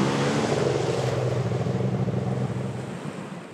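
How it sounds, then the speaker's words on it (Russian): A motorboat drones steadily past on a late-autumn river in the Altai region, a broad continuous engine-and-water rush that stays fairly loud and then eases slightly as it moves off. "Лодка идет."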